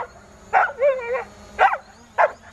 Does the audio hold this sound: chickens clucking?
no